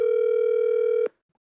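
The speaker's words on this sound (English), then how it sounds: "I'm going to call Cass real quick" A telephone ringing tone plays as a call is placed: one steady, clear electronic tone held for about a second before cutting off abruptly into silence, with no talk.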